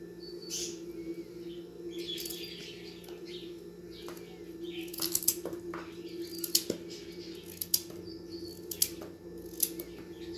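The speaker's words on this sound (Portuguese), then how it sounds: "Aí a cenoura, gente, vou cortar mais pequeno, porque ela é mais dura pra cozinhar." Knife cutting carrots into small pieces on a board while preparing a vegetable preserve, a few soft irregular chops over steady background hum with birds chirping nearby.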